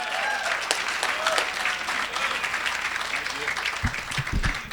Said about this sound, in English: Start clapping now. Keep the energy up.